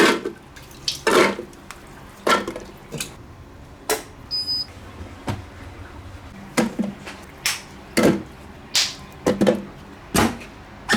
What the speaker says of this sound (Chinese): 大蒜洗哈。